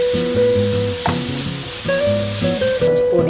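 Ginger-garlic paste, tomato and onion sizzle and fry in a pan while being stirred for a prawn roast, a steady loud crackle with a tonal hum running underneath.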